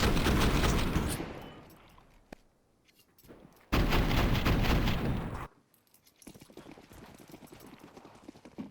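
Gunfire in a Counter-Strike match on the Anubis map comes as dense, loud bursts of shots. Between the volleys are quieter stretches with softer game noise.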